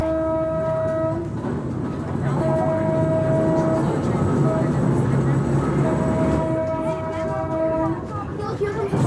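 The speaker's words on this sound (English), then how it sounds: "Look, here comes a boxcar." A train's boxcar rolls past a railroad crossing with a low rumbling roll and clatter, while a horn sounds in long, sustained blasts over it and a voice speaks briefly.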